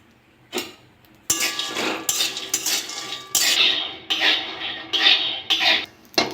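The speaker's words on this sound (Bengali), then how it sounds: "কড়াটা গরম হয়ে গেছে বাদামগুলো ভেজে নেবো" Peanuts dry-roasted in a hot wok, with repeated clinking, rattling scrapes and stirring of metal against metal, close and fairly loud in uneven bursts with brief pauses.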